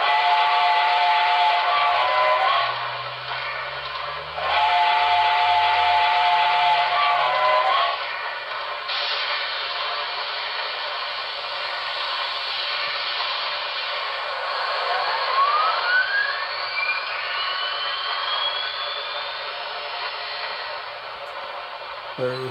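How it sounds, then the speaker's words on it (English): The sound-decoder whistle of a Broadway Limited Paragon 4 Reading T1 4-8-4 HO-scale model steam locomotive gives two loud, sustained blasts, followed by a continuous mechanical running hum and a rising turbine-like whine. "We have a horn."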